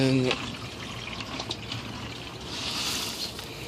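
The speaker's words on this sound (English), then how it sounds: "So I dumped that bucket into here." Water from a bucket is poured out while washing substrates, a soft diffuse splash and rush that swells briefly near the end, fairly faint and close.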